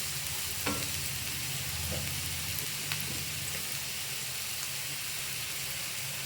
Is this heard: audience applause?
no